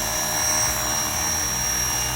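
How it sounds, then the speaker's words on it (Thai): A radio-controlled UH-1 police model helicopter, size 450, flies close by with a loud, steady high-pitched rotor and motor whine that holds constant throughout. "ก็เป็นอะไรที่คอนโทรลง่ายมากๆนะครับ กับเฮลิคอปเตอร์ UH-1 ลำนี้นะครับ"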